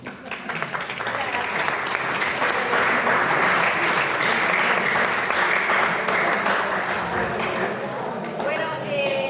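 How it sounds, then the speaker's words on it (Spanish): Audience applause after a talk on living soil and sustainable agriculture, sustained clapping that builds quickly and holds steady, with a few voices mixed in near the end. "Ahora aplaudirme, aplaudirme."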